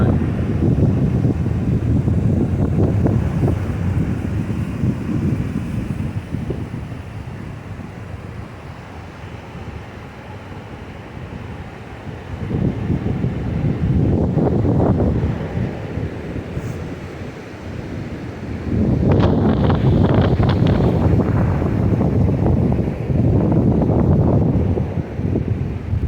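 Strong gusts buffet the microphone on a mountain hike in the Great Smoky Mountains, roaring in loud waves that ease off briefly mid-way before surging back hard near the end.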